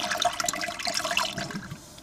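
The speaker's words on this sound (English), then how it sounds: "That is the flush." Water rushing and splashing through a DIY waterless anaerobic digester green toilet during a flush, a brief close gurgling burst that tapers off.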